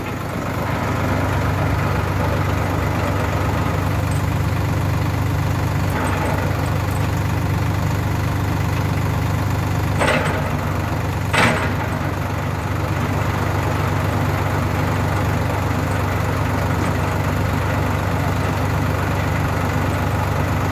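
A Solis 50 tractor with a 180 rotary tiller attached runs steadily at close range, its engine a loud, constant drone with no voices, broken only by a few brief clicks.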